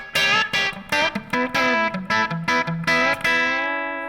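A clean electric guitar through a Roland JC-120 amp plays chords and bright single notes with a shimmering, slightly chorused tone, ringing out at the end.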